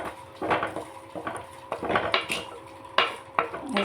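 Thick tomatoes are stirred in a pan, with repeated close scrapes and knocks of a utensil against the metal every half second or so over a faint background sizzle.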